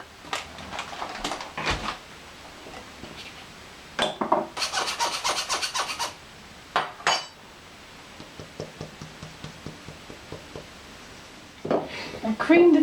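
Icing sugar is sifted into a bowl for a vanilla mock cream sponge: repeated soft rasping and tapping shakes of a sieve, close by, with a longer dense burst in the middle and small clinks in between.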